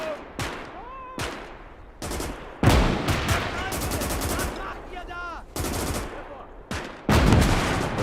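Machine gun fire and rifle shots in the WWII shooter Gates of Hell, German conquest campaign: several sharp bursts and single cracks spread through the battle, with one dense stretch of rapid fire midway, under shouting voices.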